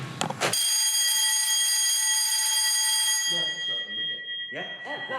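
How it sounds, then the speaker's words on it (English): A sustained electronic alarm buzz from a building alarm test, steady and loud with a pure ringing tone for about three seconds, then fading as people start talking nearby. "it's just a little buzz on, 5 seconds buzz on the alarm"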